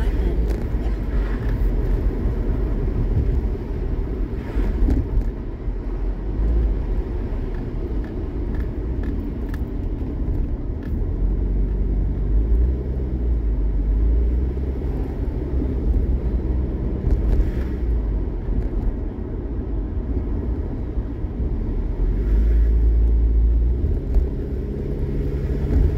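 From inside a moving car, road traffic and the car's own tyre and engine noise form a steady low rumble with occasional swells as vehicles pass, continuous for the whole stretch.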